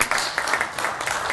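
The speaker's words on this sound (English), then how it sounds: "I think they also deserve a big round of applause" Audience applause at a city council meeting, a brief, moderately loud spell of many people clapping in a room.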